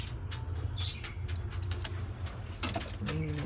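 Pigeons in a loft give soft, low, throaty coos close by amid faint rustling and shuffling, with a short burst of higher sound near the end.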